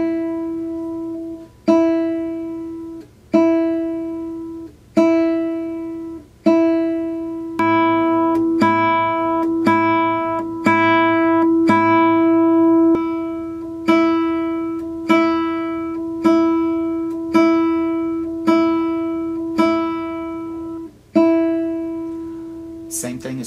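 Single guitar notes plucked one at a time with middle-finger free strokes at a slow, even pace, each ringing and fading before the next.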